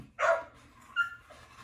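A dog gives a sharp, fairly loud bark, then a second, softer bark about a second later, with quiet room noise in between.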